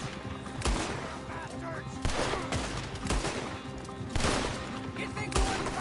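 A Red Dead Redemption 2 shootout with loud gunshots cracking at irregular intervals, some in quick bursts, while someone shouts angrily over the firing.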